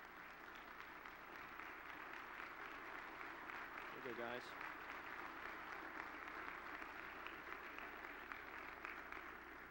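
A crowd claps and applauds steadily from some distance, heard faintly, while someone speaks briefly over the clapping.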